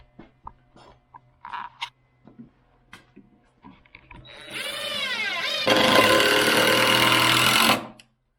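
A power drill driving screws into a wooden chicken feeder: scattered handling knocks, then a rising whine that builds into a loud, sustained grinding buzz before stopping abruptly.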